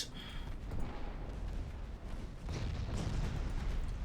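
Naval shells fired at destroyers in the naval warfare game Ultimate Admiral Dreadnoughts, heard as a continuous rumbling barrage of low booms and distant gunfire, dense and unbroken throughout.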